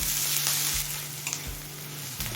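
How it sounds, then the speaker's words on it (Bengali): Onions fry in a pan until reddish-brown, a loud steady sizzle close by with a few brief clicks of stirring. "পেঁয়াজটা লাল করে ভেজে নিলাম"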